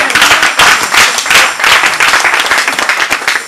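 A church congregation at a Sunday service applauds, with loud, dense, continuous clapping from many hands that holds steady throughout.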